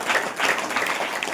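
A church congregation claps together, a lively burst of many hands rising and falling in loose waves, moderately loud, with no talk on top.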